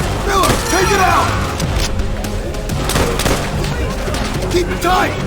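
Machine gun fire rattles in a Call of Duty: World at War battle, loud sustained bursts and booms mixed with shouted voices and other combat noise.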